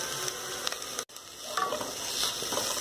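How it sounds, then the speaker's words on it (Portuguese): Bell pepper stirred and sautéing with onion in a pan, a steady close sizzle with scraping stir strokes, briefly cut off for an instant before the frying continues alone. "eu vou acrescentar aqui o pimentão e vou dar uma refogadinha"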